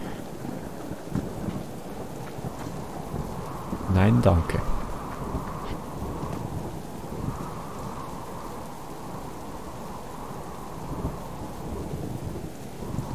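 Heavy pouring rain hisses continuously in the survival game Subsistence, with a loud crack and rumble of thunder early on, while someone speaks briefly.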